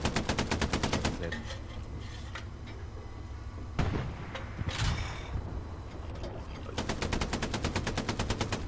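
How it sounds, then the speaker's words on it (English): Machine gun fire in the World War II shooter Hell Let Loose, loud rapid bursts at the start and end with a quieter stretch of rumbling and clanks between, faint voices underneath. "put some MG shots on this guy's face"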